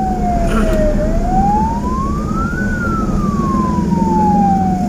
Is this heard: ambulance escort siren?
yes